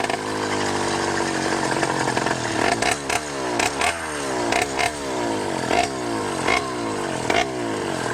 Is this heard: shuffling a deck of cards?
no